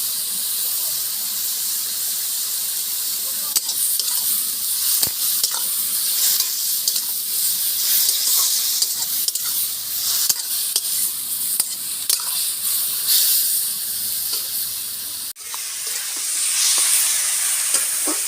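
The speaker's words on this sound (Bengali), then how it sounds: "নেড়ে নিয়েছি, ভাজা ভাজা মতো একটু করে, মানে অনেকটাই নরম হয়ে গেছে লাউ" Bottle gourd sizzles steadily in hot oil while being stirred, with a continuous loud frying hiss and occasional scraping clicks from a utensil.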